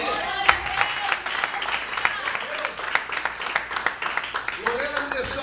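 A church congregation claps for the Lord during a Portuguese-language sermon, with steady scattered clapping running under background voices and a sustained low tone.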